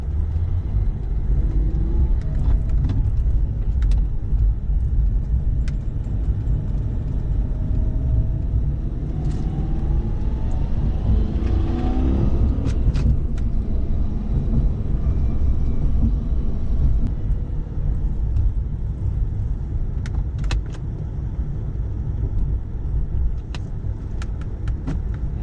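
Maserati Quattroporte V converted to a manual gearbox, driven with a steady engine drone and road rumble throughout, a rising engine pitch midway as it pulls through the gears, heard from inside the cabin.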